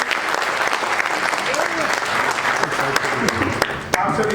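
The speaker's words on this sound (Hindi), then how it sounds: "एक बार जरा जोरदार तालियों से स्वागत" Loud applause from a live audience welcoming a comic poet at a Holi laughter show, dense steady clapping filling the whole stretch with a few sharper claps near the end.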